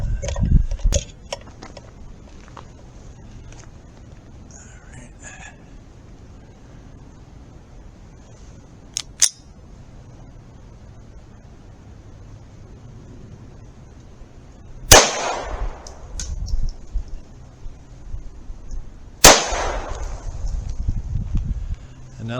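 A .22 target pistol fires outdoors: two loud, sharp, close shots spaced a few seconds apart, each with a brief ringing tail, after a stretch of faint handling clicks and low background noise.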